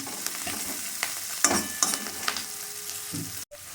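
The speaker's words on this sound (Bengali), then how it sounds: "এক মিনিট পর পেঁয়াজটা নেড়ে দিলাম" Chopped onions and green chilies fry in a pan under a steady sizzle, with several scraping stirs and light clinks of the utensil, heard close and without talk.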